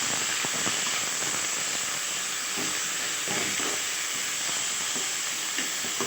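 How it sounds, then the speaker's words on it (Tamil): Chopped coriander and mint with mango are sautéed in a pan for a traditional Tamil fish curry, giving a steady close sizzle and hiss with faint stirring ticks throughout. "சேர்த்து நல்லா வதக்கி விட்டுக்கோங்க."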